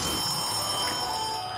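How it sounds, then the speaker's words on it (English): Telephone ringing inside a horror puzzle map in a video game, a steady electronic ring that holds at an even level throughout against a dense background of game noise. "I hear a phone ringing."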